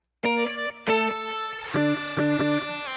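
A distorted synth in a K-pop song, buzzy and harmonically rich, playing short stabbed notes and held tones in a choppy rhythm, loud and upfront with no talk.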